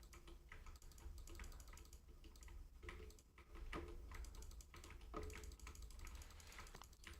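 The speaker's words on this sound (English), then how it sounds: "I apologize if you just hear ridiculous amounts of clicking right now because my mouse is loud" Rapid, loud clicking from a computer mouse while building in Minecraft, with dense irregular taps and a few sharper clicks over a low steady room hum.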